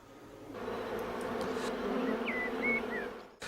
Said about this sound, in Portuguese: Impacientemente as abelhas esforçam-se para entrar na colmeia, para se libertarem da carga que trazem, o néctar.